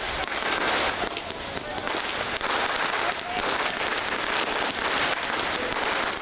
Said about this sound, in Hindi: इस मौके पर आतिशबाजी का मुजाहरा भी किया गया।